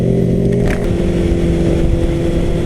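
A Suzuki GSX-S750 motorcycle engine drones loud and close with a steady, throaty exhaust note, holding an even idle-like rumble throughout with no talking.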